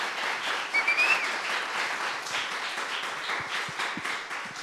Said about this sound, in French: Allez-y, applaudissez-le.